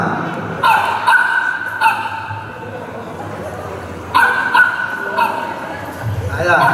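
Puppies yip and whimper in repeated short, high bursts over a steady background, with people talking throughout.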